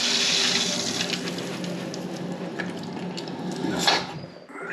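Toilet cistern refilling through a ball valve, a steady close hiss and gush of running water that tapers and thins as the valve begins to close near the end.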